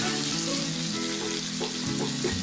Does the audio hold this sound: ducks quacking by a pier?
no